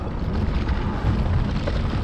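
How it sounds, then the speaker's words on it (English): Wind gusting on a mountain bike trail in Elfin Forest, a steady loud rumbling buffet against the microphone with no pauses and no talk. "kind of windy right now, kind of wet"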